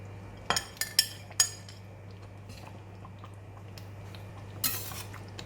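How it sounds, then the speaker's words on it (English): Spoon clinking and scraping against a pot while chicken rendang curry with coconut milk is stirred, a few sharp clinks early, then quiet simmering background and one more scrape near the end, with no talking. "Just give it a stir. Make sure that curry is covered the meat all up."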